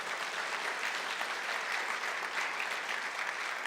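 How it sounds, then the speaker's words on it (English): A crowd at a political gathering breaks into applause, a dense, even roar of clapping that stays steady and fairly loud throughout with no speech over it. "I'll take that round of applause back there"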